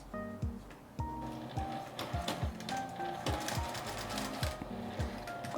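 A sewing machine stitches a quilted magnetic pot holder in quick rhythmic bursts of rapid mechanical whirring and clicking, with brief pauses between runs, close and clear.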